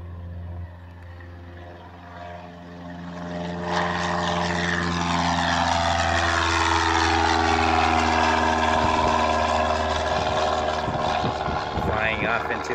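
A small propeller airplane on short final to a runway, its engine drone faint at first and then swelling louder and nearer, with a voice talking over the hum.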